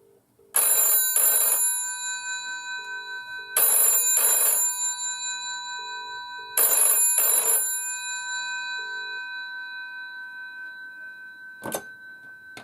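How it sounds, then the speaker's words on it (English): A vintage 1973 ivory GPO 746 rotary dial telephone with GPO 700 series bells rings loudly and close by in three long double bursts that ring on and fade, followed by a faint click. "you'll be able to hear the lovely loud GPO 700 series bells"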